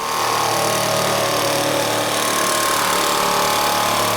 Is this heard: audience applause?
no